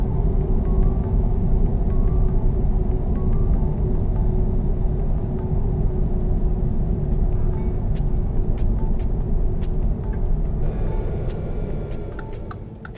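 A truck engine in the American Truck Simulator game drones in a steady, loud, low rumble while driving, with a few sharp clicks and a brief rise near the end.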